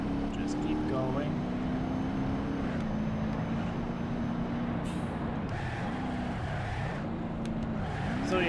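A homemade rally car in BeamNG.Drive on the Pikes Peak course drives hard, its engine droning and revving up and down through gear changes, with some tire and impact noises over the steady roar.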